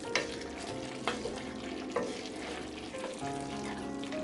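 Pork and chicken adobo sizzles steadily in a pan with soy sauce while a utensil stirs it, scraping the pan in a few regular strokes. Close and alone.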